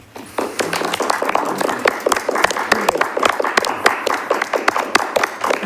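Lively clapping from a small studio audience at a poetry reading, sharp and close, continuing steadily throughout.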